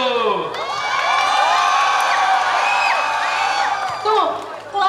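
Tenth-grade high school students cheer, whoop and shout together in a loud, sustained crowd roar at a school pageant event, swelling again near the end.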